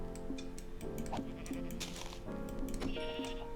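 Sheep bleating in Minecraft, a few short blocky game bleats scattered over busy background game music and sound effects, fairly close and moderately loud.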